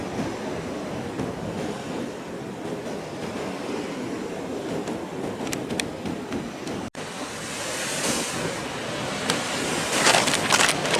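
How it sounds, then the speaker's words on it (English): Big ocean waves breaking on the Irish coast at Spanish Point, a continuous rushing surf close by that builds louder toward the end, with wind noise. "Couple of big waves coming on in there."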